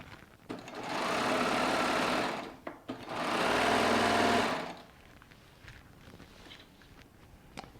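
Baby Lock Triumph longarm quilting machine stitching a wide quilt back, two sustained runs of steady high whirring motor and needle hum separated by a short pause, then quiet handling noises.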